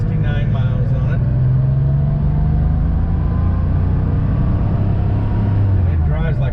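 A 1985 Porsche 911 Carrera coupe with low mileage being driven, its engine giving a steady low droning rumble from inside the car, with a pitch that shifts slightly as it moves; brief voices come in at the start and end.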